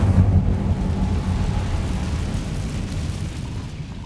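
An Incendio fire spell cast in Hogwarts Legacy gives a sustained, heavy whooshing roar of flame, loud at the start and slowly easing off over a few seconds.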